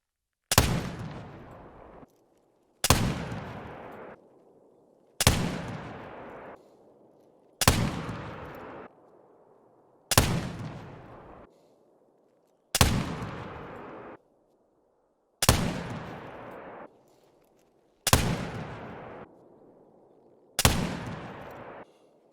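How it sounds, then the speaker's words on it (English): Ten evenly spaced, loud, booming shots from a Curman .50 inline rifle at a shooting range in theHunter: Call of the Wild, each followed by a decaying echo. "That is 10 shots from 150 meters."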